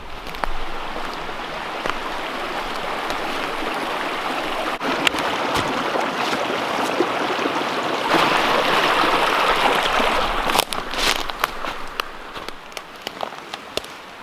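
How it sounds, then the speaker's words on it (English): A brook in New Hampshire woods runs steadily nearby, a continuous rushing babble of water with occasional faint knocks and rustles mixed in. "I can hear the brook."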